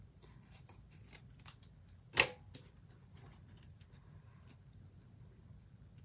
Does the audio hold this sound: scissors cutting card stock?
yes